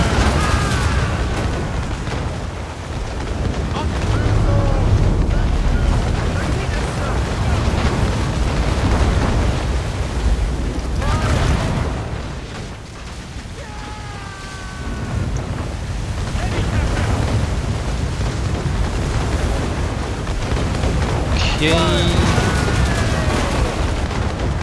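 Enemy ship cannon broadsides in Assassin's Creed Rogue boom as heavy, rumbling blasts amid loud continuous wind and ocean roar, with several bursts swelling and fading over the stretch and a few faint voice-like tones.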